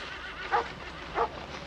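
Sled dogs give two sharp, separate barks about half a second apart, moderately close against a quiet outdoor background.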